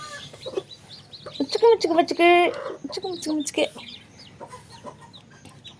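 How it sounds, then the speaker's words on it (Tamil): High-pitched cheeping and peeping from chicks mixed with clucking, close by, while a person speaks over them. "எல்லாம் அழகான கோழி குஞ்சுங்க."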